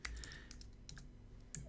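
Keystrokes on a computer keyboard while entering a search term into a keyword research tool, a quick run of soft clicks, close and moderately quiet, with no talking.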